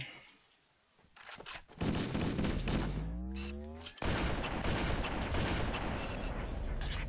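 Gunfire and explosive blasts in Halo: Combat Evolved crowd the mix, loud and continuous after a quiet start, with a falling, sweeping tone partway through.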